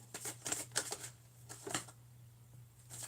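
Tarot cards being shuffled during a horoscope reading, a run of quick crisp riffling snaps in uneven bursts, close and fairly soft over a low steady hum.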